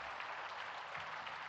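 Applause at a temple inauguration ceremony, a dense, steady patter of many hands clapping at a moderate distance, with no voices over it.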